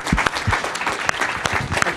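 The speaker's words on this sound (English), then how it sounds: "I would like to ask a round of applause for our distinguished guests" Audience applause for distinguished guests at a European business angel network congress, a short burst of clapping with distinct individual claps, fairly close and steady throughout.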